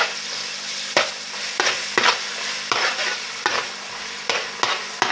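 Chicken fried rice with egg and ginger garlic paste being stir-fried in a pan, a steady sizzle broken by sharp scraping spatula strokes roughly every half second to second, close up with no voices.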